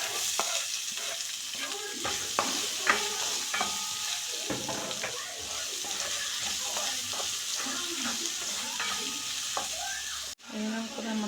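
Sliced onion stir-fries in hot oil with dried red chillies, curry leaves and ginger-garlic paste. Brisk scraping strokes of the spoon punctuate a close, continuous sizzle, which drops briefly near the end before resuming.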